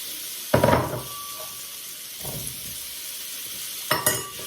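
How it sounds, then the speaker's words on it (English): Potatoes sizzle steadily in a hot pan with bacon fat, broken by three louder bursts of scraping and stirring spaced a second or two apart. "we're frying these until they are cooked, so nice and crispy"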